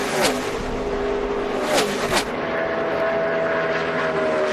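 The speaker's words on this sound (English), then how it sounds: "You hear those motors just singing for a long, long time" NASCAR Nationwide Series race cars at Auto Club, engines held high around 8,500 to 9,000 RPM, give a loud, sustained singing whine with a few cars sweeping past in quick, pitch-dropping bursts.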